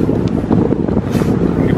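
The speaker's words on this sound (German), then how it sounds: "Wir haben heute ganz schön zu böigen Wind." Gusty wind buffets the microphone on open water during a boat fishing trip for zander, a continuous close, loud roar with no talk.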